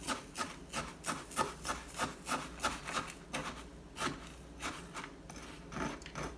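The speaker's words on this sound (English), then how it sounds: "I'm going to use a spoon to kind of stir that up" A spoon scrapes through a coarse salt scrub of coconut, lime and salt in a bowl, giving rhythmic gritty rubbing strokes, about a dozen in steady succession, close and fairly quiet.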